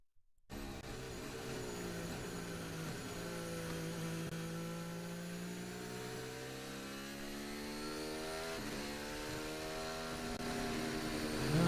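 A Formula 1 car engine during pre-season testing, stuck in one gear, holds a sustained high buzzing note that rises and dips slightly as the car circulates, continuous and fairly close, with no voices over it.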